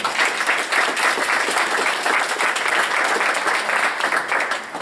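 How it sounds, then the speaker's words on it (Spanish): Audience at a formal conference on gender equality applauds, an even, sustained burst of many hands clapping close by for several seconds, with no talking over it. "Un aplauso simbólico, por favor"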